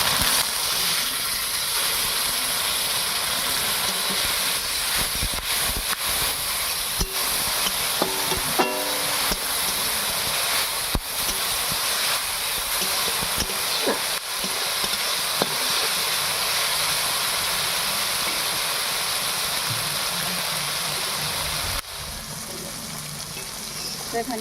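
Ground coriander and cumin masala sizzle steadily in a pan with a little water added, a continuous close hiss with occasional stirring clinks and a softer stretch near the end.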